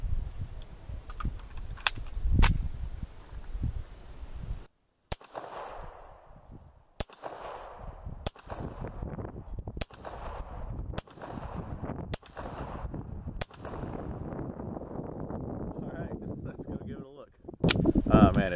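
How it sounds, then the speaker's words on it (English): Gunfire at an outdoor shooting range: a series of sharp, loud single shots spaced roughly a second or two apart, each with a trailing echo, over steady background noise, with a final burst of louder shots at the end. "it sure is entertaining to have the brass falling on me as I fire"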